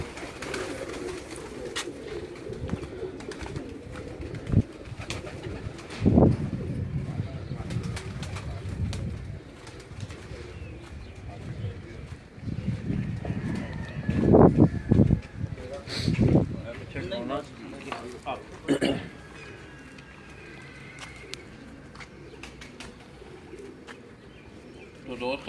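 Pigeons, including Tuniye and Ali-marked birds, coo intermittently on a rooftop in Gujrat, their soft calls mixed with people talking nearby and occasional louder stretches of activity.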